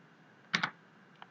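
Computer keyboard keys are pressed in two quick, crisp clicks close together, followed by a fainter single tap a moment later, in an otherwise quiet room.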